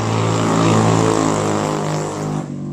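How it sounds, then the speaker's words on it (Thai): A steady, loud car engine drone passes close by outside a house, a low humming rumble that holds for a couple of seconds before fading abruptly. "มีเสียงรถต้องขออภัยด้วยนะ"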